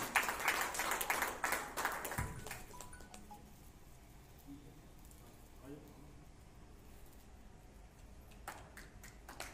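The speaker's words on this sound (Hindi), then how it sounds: "ताली बजते रहना चाहिए।" Audience clapping at a talent felicitation award ceremony in 2023, a burst of applause at the start that fades into softer scattered claps and low crowd murmur.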